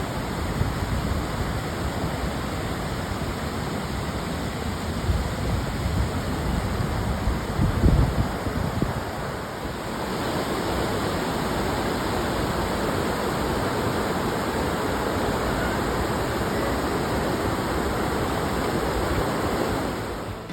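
A normally dry desert river in Alice, flooded and raging after several days of heavy rain, roars as a dense, steady wash of rushing water with no pauses.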